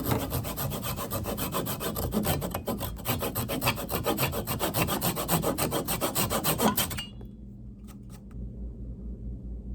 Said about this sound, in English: used a handsaw to cut off that excess